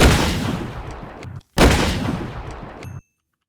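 A double-barrel gun firing grape shot in the Minecraft Scorched Guns mod, two loud close blasts about a second and a half apart, each ending in a sharp cutoff, followed by a faint metallic click.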